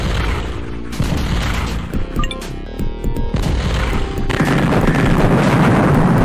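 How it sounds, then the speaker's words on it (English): Nuclear missile launch in the Dune real-time strategy game: a loud, sustained booming rumble with a brief lull mid-way, then building into a dense roaring blast that carries to the end, with no voices. "Nuclear missile launched"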